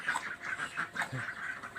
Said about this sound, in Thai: มาถ่ายเนี่ยเป็ดกับไก่ที่เลี้ยงไว้ที่บ้านเนี่ยครับ